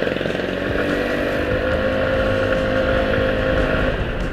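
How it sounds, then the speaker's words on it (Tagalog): A Rusi XDV 175 scooter pulling away under throttle, its engine droning steadily with a rising tone, loud and close-up during a test ride, with wind noise mixed in. "Ganda ng arangkada talaga ng motor na to."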